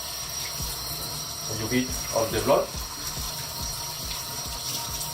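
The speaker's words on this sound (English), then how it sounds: "You need to clean with a lot of cold water." Cold tap water runs steadily over monkfish being rinsed clean in a kitchen sink, a continuous splashing wash with brief louder surges, while someone talks over it.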